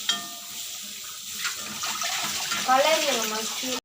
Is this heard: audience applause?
no